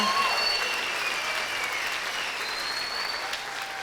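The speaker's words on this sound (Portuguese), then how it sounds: "Eu queria aplaudir esse meu amigo aqui." A church congregation applauds a friend of the pastor, a broad, steady wash of clapping throughout with faint voices and a few whistles mixed in.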